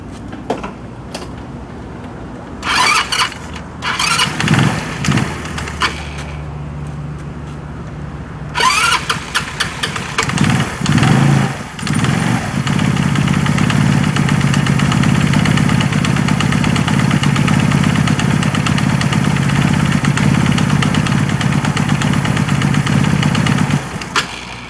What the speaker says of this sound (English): We can turn the motor and see if that is going to be working okay.